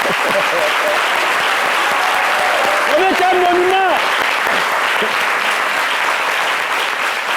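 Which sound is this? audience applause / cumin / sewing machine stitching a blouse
audience applause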